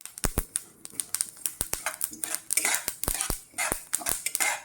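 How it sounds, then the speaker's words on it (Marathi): Rapid, sharp crackles and pops in quick irregular bursts as flax seeds splutter while roasting in a hot pan, close and loud with no talking. "कढई गरम झालेली होती ती लगेच तडतडायला लागले बघू शकता"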